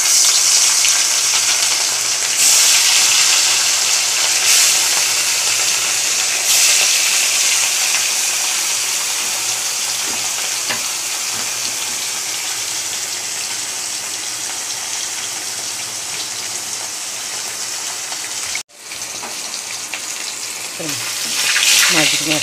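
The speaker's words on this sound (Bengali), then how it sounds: "মাছগুলো ছেড়ে দিই তেলে।" Fish coated in salt and turmeric go into hot oil in a kadai and fry with a loud, continuous hiss and crackle close by, a brief pause and then the sizzle picking up again.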